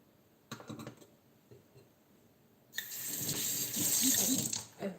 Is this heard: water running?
yes